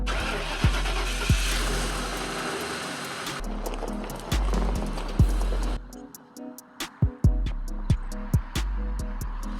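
A car engine cranks and runs at a low, steady idle up close, with sharp clunks and thumps over it. Midway the engine note cuts out, and more scattered knocks follow.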